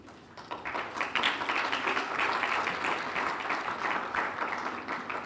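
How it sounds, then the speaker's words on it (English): Lukewarm applause from an awards gala audience at a chamber of commerce event, a steady, moderately loud wash of clapping lasting several seconds without much swell or cheering. "thank you for those lukewarm round of applause"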